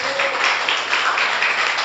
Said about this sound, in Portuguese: aplauda o Senhor Jesus mais uma vez